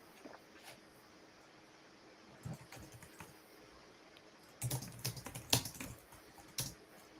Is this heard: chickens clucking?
no